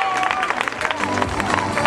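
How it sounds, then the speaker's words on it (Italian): An audience at the Miss La Riviera 2013 beauty pageant final in Riva Ligure claps for the crowned winner Francesca, steady applause mixed with crowd murmur and a few voices. "un applauso per Francesca!"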